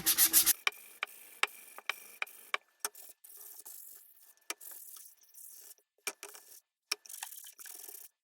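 Short scraping rubs of sanding wood repeat in quick, irregular strokes, close and fairly crisp, with brief pauses between bursts and no talking.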